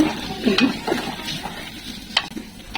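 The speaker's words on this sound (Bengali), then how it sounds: "জলপাইটাকে অনেকক্ষণ একটু তেলে ভাজা ভাজা করবো" Olives sizzle in hot oil for pickle while a spoon stirs and scrapes the pan in short, irregular strokes.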